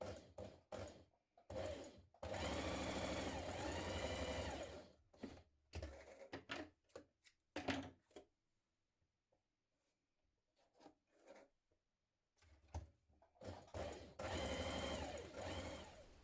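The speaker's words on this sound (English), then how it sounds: "Change your machine stitch to a longer stitch and we're going to do these a couple of millimetres apart." A home sewing machine set to a long stitch runs gathering rows on a New Look 6374 blouse: several brief whirring starts, a steady run of a few seconds, a long quiet pause, then another sustained run.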